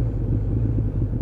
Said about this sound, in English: Revs down very, very nicely now.